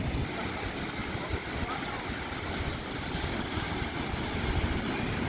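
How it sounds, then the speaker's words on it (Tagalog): Strong sea waves roll in at a beach lined with cottages, a constant loud roar of surf mixed with heavy wind buffeting the microphone, with no clear voices. "Lakas ang lakas ng alon"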